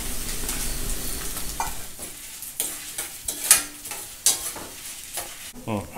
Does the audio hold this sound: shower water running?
no